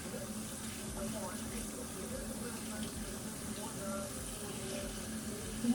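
A sink tap runs steadily into a basin for several seconds, a constant close hiss and splash of flowing water with no break.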